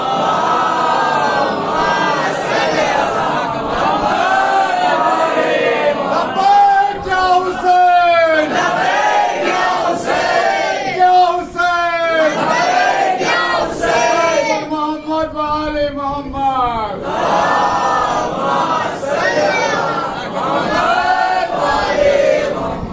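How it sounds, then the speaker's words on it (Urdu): A large crowd at a Shia majlis on the eve of 10 Safar chants religious slogans in loud, rhythmic unison, voices swelling together over sustained roaring crowd noise with repeated cries rising and falling. "اس نعرے کو لبیک یا حسین کو پوری شدت سے لگایا کریں"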